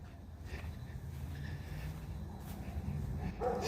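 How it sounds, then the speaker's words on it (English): A dog barks faintly in the distance, a few sporadic barks that barely rise above steady outdoor background noise. "Hear that dog."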